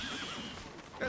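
A horse whinnies in the Stronghold Crusader strategy game, a brief, fairly faint neigh with a wavering pitch that fades out quickly.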